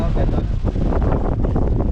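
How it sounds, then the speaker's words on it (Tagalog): Strong seaside wind buffets the microphone in a loud, continuous rumbling roar, gusting unevenly with no clear pause. "Hangin kasi mga bay, hangin."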